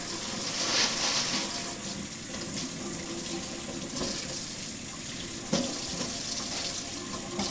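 Fresh garden salad greens rinsed under a running tap in a sink, a steady close rush of water with small splashes as the leaves are handled, no voices.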